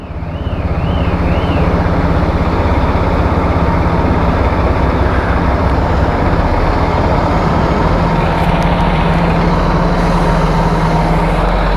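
A lorry rumbles loudly and steadily as it squeezes through a narrow gap on a road, with heavy wind noise buffeting the microphone throughout and faint warbling alarm tones early on.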